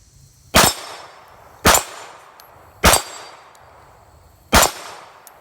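Four sharp Glock 23 Gen 4 pistol shots, fitted with an LWD .40-to-9mm conversion barrel, each followed by a metallic clang as the round strikes a small 5-inch steel target; the shots are loud, spaced about a second apart, with brief ringing decay and no talk.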